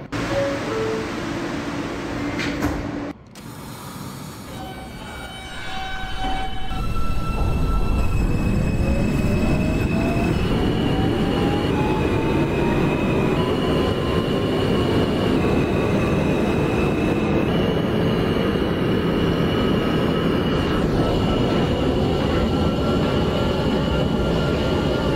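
An NYC J subway train in the OpenBVE simulator pulls away after a brief pause, its motors whining upward as the rumble and wheel noise build and hold steady and loud.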